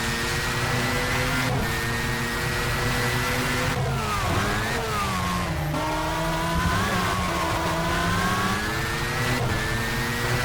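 Race car engine in rFactor at Imola, a loud, constant high-pitched whine that climbs and drops sharply through gear shifts, with brief tire squeal, heard close and without talk.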